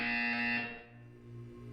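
An electronic buzzer sounds in the video game Portal 2, a loud, steady tonal blare that cuts off after about half a second and leaves a quieter lingering hum.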